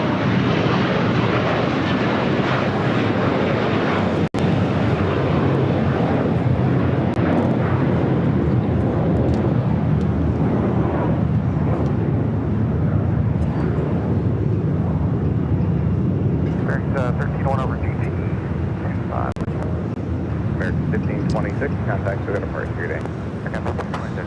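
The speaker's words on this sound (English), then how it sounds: "That was American Airlines Flight 1526 heading to Miami and into A321" An American Airlines Airbus A321 bound for Miami departs LAX, its jet engines roaring loud and steady throughout, broad and sustained without pause, with faint voices heard under the engine noise.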